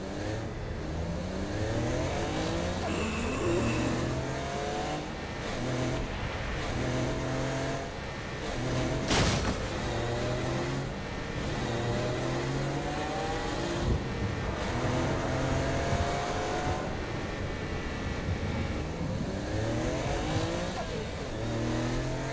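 Car engine revving and shifting steadily as a vehicle is driven through the streets in Saints Row: Gat out of Hell, the pitch rising and falling with gear changes, plus a sharp crash partway through.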